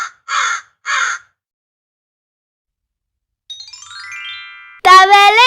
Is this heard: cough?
no